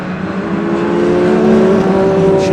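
BMW race car on the circuit at Donington Park during a BARC race meeting, its engine droning steadily and loud, holding a sustained near pitch with a slight rise, no voices over it.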